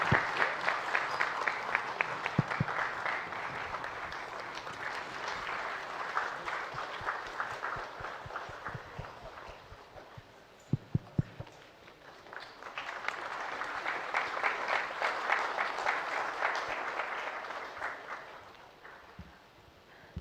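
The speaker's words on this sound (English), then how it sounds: "let's give her a big applause, standing ovation" A large crowd at a summit gives a standing ovation, clapping steadily, dipping briefly in volume midway, then swelling again into sustained applause, with no speech over it.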